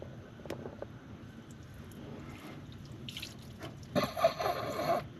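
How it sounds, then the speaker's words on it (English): Diesel poured into the engine of a forgotten 1940 Plymouth Deluxe drains out in a quiet trickle that swells into a brief louder splashing gush near the end, close by. "get Dad to pour just a little bit of diesel down in this thing. Kind of shake it through and let it run out"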